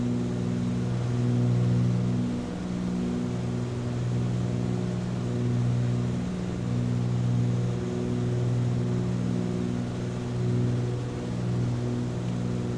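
A light aircraft's piston engine drones steadily with reduced power during descent, a constant loud hum with slight pulsing and no talk over it.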